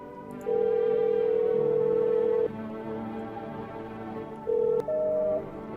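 Telephone dialing in the video game No, I'm not a Human: sustained electronic tones, one long beep, a pause over a lower tone, then two short beeps at different pitches, clear and close.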